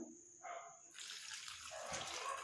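Tap water starts running after a quiet moment as hair dye is washed off hands at a sink. The rush builds into a steady, close splashing flow.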